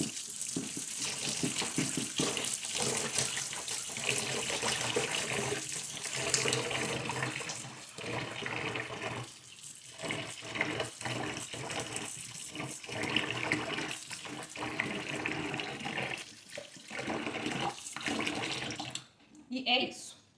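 Tap water runs steadily into a sink as sushi rice is rinsed and drained, a continuous close splashing wash with brief pauses and shifts in flow.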